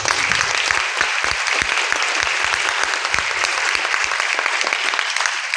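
Audience applause at a Rootpure training session, a dense, steady patter of many hands clapping throughout, close and loud with sharp individual claps standing out, no talk over it.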